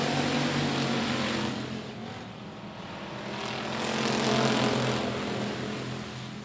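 Stock cars racing at I-37 Speedway, a dense, loud engine roar that dips and then swells again as cars sweep past, steady throughout with no talk.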